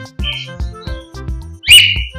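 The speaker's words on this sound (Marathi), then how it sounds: "हा म्हणजे जशी आपण शिट्टी वाजवल तसा वाजवायचा प्रयत्न करतोय." A pet cockatiel whistles at close range, giving a run of short, evenly spaced notes and then a louder, higher chirp near the end.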